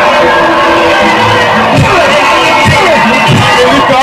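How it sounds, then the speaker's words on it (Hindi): An audience at the Mr UP Open Bodybuilding Championship 2022 in Nurpur applauds and cheers the bodybuilders, a dense, loud, continuous wash of clapping with scattered shouts and whoops running through the whole stretch. "इनका जोरदार ताली से स्वागत तो कीजिए"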